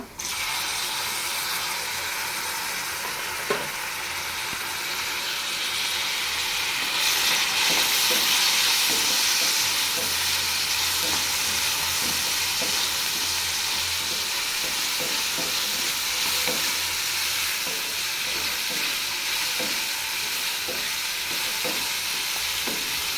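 Chopped tomato fries in a pan while being stirred, giving a continuous sizzle that swells partway through, with repeated spoon scrapes and taps against the pan, no talking.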